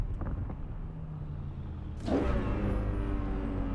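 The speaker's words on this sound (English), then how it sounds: "That car is way too powerful for me." A car engine in the video game Cyberpunk 2077 hums and rumbles steadily, then surges louder with a brighter, revving tone partway through; no one speaks.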